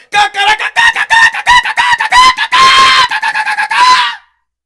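A voice imitates a hen cackling after laying an egg: a loud, rapid run of choppy squawks ending in a few drawn-out screeching calls.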